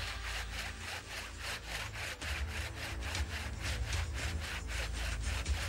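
A hand saw cuts through wood in fast, even back-and-forth strokes that stay loud and close throughout, with no one talking.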